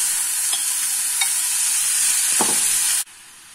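Chopped onions sauté in a pan for onion uttapam, a steady bright sizzle with a few soft stirring scrapes, ending abruptly near the close.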